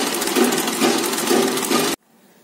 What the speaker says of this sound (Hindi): मैं पीछे पल्ले की पक्की सिलाई कर दूँ?